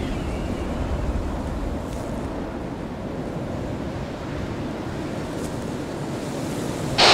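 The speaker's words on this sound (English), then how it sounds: "I got a snow storm right in front of me." Loud steady wind roaring through a snowstorm in winter, buffeting the microphone in a constant rushing blast that swells briefly at the very end, with no one speaking.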